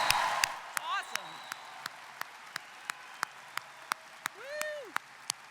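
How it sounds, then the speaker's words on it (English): Commencement audience applauding and cheering for graduates, with scattered sharp claps over a soft crowd bed and a few whoops rising through the noise, while a voice speaks over it at moments. "I would like everyone to help me now to clap and cheer for these remarkable graduates"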